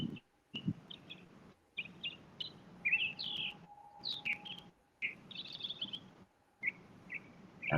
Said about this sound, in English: I just hear the birds out there singing the tune.